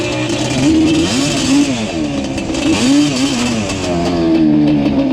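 A Yamaha Banshee engine bogging at low RPM, a close, loud, rough two-stroke drone that wavers and stumbles in pitch without clean revving, running steadily throughout.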